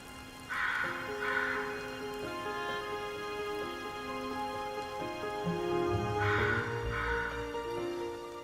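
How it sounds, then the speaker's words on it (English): A raven gives two pairs of harsh, croaking caws, one early and one late, ringing over a background of sustained tonal music. "The raven has watched the nutcracker searching and is now looting its granary."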